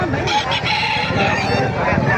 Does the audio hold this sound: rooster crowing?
yes